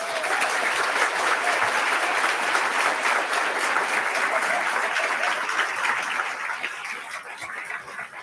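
A crowd at an awards ceremony claps in sustained, dense applause that holds steady before gradually thinning and fading toward the end.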